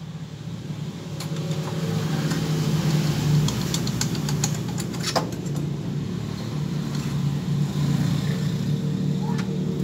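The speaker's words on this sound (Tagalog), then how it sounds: "Yan, nagingay na yung timing gear." A Honda TMX155 motorcycle engine with a noisy timing gear runs steadily at idle, a continuous mechanical drone with faint ticking on top and voices in the background.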